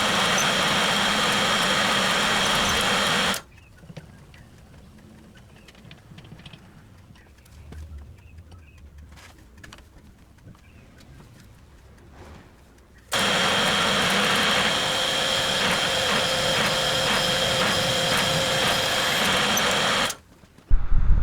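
Drill boring 13mm holes through steel welding table tube, a loud steady grinding whir that runs, stops for a quieter stretch of faint clatter, then resumes at full strength and cuts off near the end.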